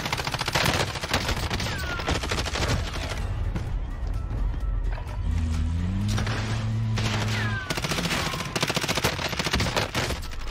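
Dense gunfire fills a Warzone match, rapid automatic bursts and sharp shots rattling nearly continuously and loud, with a brief lull in the middle where tonal game sounds ring out before the shooting resumes.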